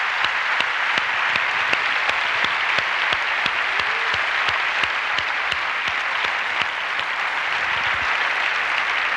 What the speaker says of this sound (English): so I think they deserve a huge round of applause.